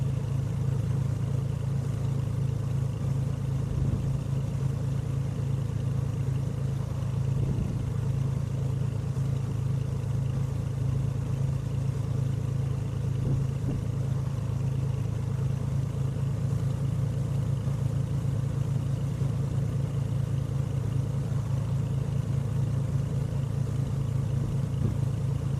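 A propeller aircraft engine at high RPM while taxiing in Prepar3D v4.2 flight simulator, a steady droning hum with an even low rumble, continuous and unchanging throughout.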